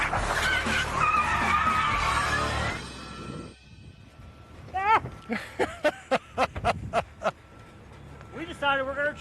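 A race car at a NASCAR-style driving event skids with tires squealing in several rising chirps and short screeches after a stretch of talking, the engine rumbling low beneath.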